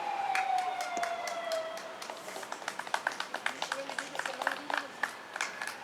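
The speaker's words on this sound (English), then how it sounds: "Smattering of applause." A thin, scattered smattering of audience clapping at a debate, starting faintly and turning into sparse, uneven claps from a modest crowd, with no talking over it.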